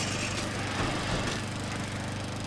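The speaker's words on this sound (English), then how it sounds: "so what do you think about my makeshift lawnmower?" Makeshift lawnmower weapon from Dead Rising 2 droning loudly and steadily, a rough buzzing motor running without pause for a couple of seconds.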